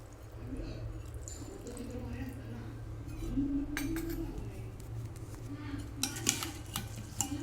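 A spoon stirs lemon juice into a bowl of green chilli pickle, giving soft wet scraping with a few light clinks near the end, close but fairly quiet.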